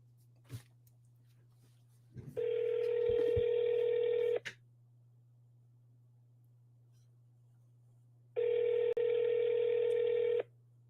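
A telephone call to a senator's office rings on speakerphone: two long ring tones a few seconds apart over a low steady hum, with brief clicks and knocks before the first ring.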